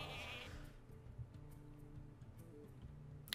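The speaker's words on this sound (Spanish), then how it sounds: "Una puta oveja." A sheep bleats in the Hearthstone card game, a nasal bleat at the start followed by light clicks and small game effects, fairly quiet, with no talking.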